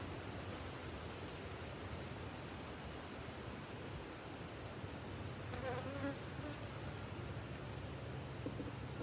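A steady, dense insect buzz from many honey bees at an open hive during inspection, continuous and close, with a few faint brief higher tones drifting through.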